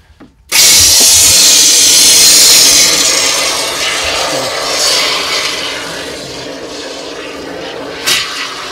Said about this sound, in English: got my can of foam, all shook up, I'm going to reach my arm in there and start spraying.